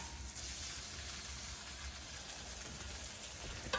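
Picanha steaks searing fat-side down on a grill, a soft continuous sizzle and hiss heard faintly and steadily throughout.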